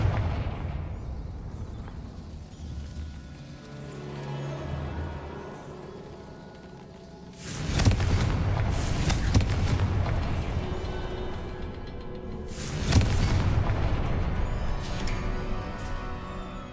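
Confringo spell blasts in the video game Hogwarts Legacy: two loud booming explosions several seconds apart, each with a long rumbling tail over a low game ambience.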